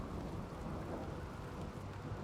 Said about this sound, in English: Oh, great, it's a thunderstorm.